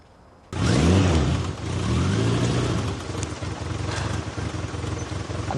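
A car engine bursts to life and revs twice in quick rising sweeps, close and loud, then settles into a rough, uneven running note.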